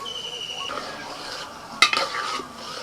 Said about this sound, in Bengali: একটু হালকা হাতে নাড়াচাড়া করে দিয়েছি